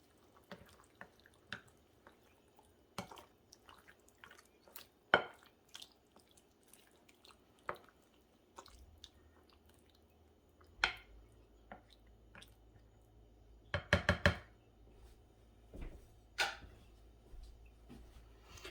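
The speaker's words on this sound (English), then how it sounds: "I'm going to go ahead and just mix this together, get that spinach mixed in" Spinach being stirred into a ravioli casserole with mozzarella, soft wet squishing and dripping sounds in irregular bursts, close and quiet, with a faint low hum partway through.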